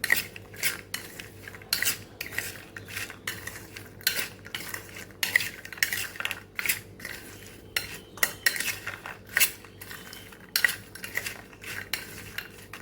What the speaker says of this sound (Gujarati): મીઠું ઉમેરશું આપણે એને સરસ મિક્સ કરી લઈશું